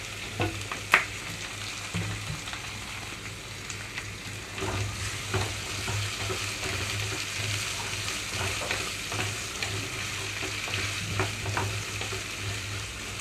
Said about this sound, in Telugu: ఇప్పుడు ఇందులోకి కొన్ని కరివేపాకు రెమ్మలు అలాగే బంగాళదుంప క్యారెట్ టమాటో కట్ చేసి వేసేసుకుంటున్నాను